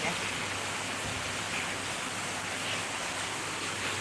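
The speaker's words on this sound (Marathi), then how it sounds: "तीन चार तास झालं पाऊस पडतोय बरं का" Heavy monsoon downpour in Mumbai, a dense continuous roar of rain and running water with floodwater in the house, steady and unbroken, with a faint voice in the background.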